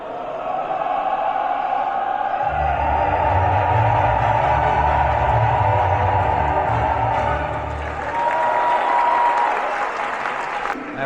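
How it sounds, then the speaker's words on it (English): A large, dense crowd in Mexico City claps and cheers for a live band performance, with sustained loud applause swelling from about two seconds in, rumbling low under a bright wash of clapping and shouts. "The crowd was absolutely loving that performance."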